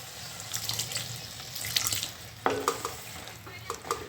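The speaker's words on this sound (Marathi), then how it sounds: "थोडं पाणी टाकते मी" Water poured into a pan of cooking vegetables, a running splash with stirring and light sizzling, moderately faint and continuous.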